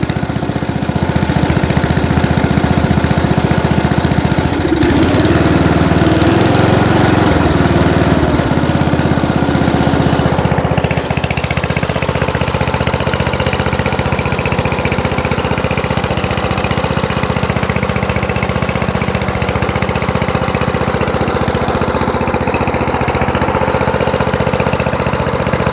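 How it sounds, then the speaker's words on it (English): A small Simplicity tractor engine runs continuously nearby, a loud steady chugging drone with slight shifts in pitch, no voices heard. "I think these motors here, they got a nice little sound to them."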